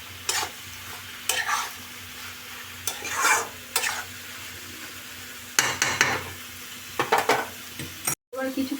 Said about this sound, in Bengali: এবার কিছুক্ষণ নাড়াতে হবে। দুটো রান্না একসাথে হয়ে যাচ্ছে।